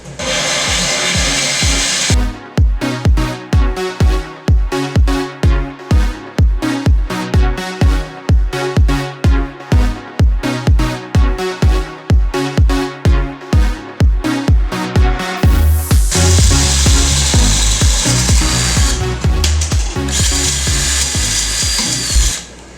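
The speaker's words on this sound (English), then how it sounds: "it's important that we lubricate as we drill so that it doesn't heat up too much and crack the glass" A power drill whirs in short rhythmic pulses against aquarium glass, loud and close, then settles into a longer steady grinding run near the end.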